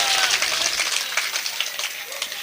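A mushaira audience claps loudly in a brisk burst, many hands together, with individual claps standing out near the front as the applause thins toward the end.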